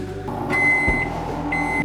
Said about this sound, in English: Time to throw it in the microwave.